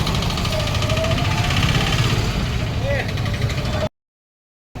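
A motorbike engine idles steadily in a low, continuous rumble, with people talking over it before it cuts off abruptly near the end.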